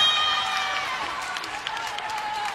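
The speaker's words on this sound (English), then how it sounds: "I like your applause." A crowd applauds at a women's college volleyball match in a large arena, with steady clapping and scattered cheers. A commentator talks over it throughout.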